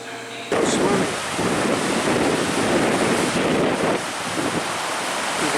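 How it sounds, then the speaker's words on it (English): Windy, choppy ocean waves churn steadily off a shoreline, a broad roar of surf mixed with gusty wind buffeting the microphone, loud and continuous throughout. "Windy, choppy currents."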